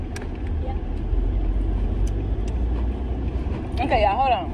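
A bus rumbles past on an evening street, a low, steady engine drone heard from a parked car, with voices briefly rising near the end.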